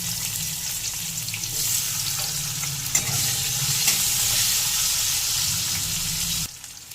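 Chopped onion pieces sizzling in hot oil left from frying okra, a steady loud frying hiss with stirring that carries on evenly, then cuts off abruptly near the end.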